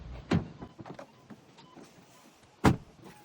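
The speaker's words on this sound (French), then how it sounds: "J'ai le contact et baisser ma vitre." A car's electric power window being lowered, heard as a short motor whir near the start and another brief, louder burst later, with faint mechanical rattles between; no one talks.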